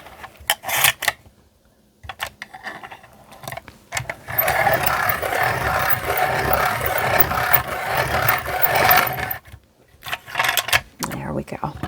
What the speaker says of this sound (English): I'm going to sharpen my pencil because it's getting a little dull.